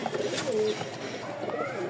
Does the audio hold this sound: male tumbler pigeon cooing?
yes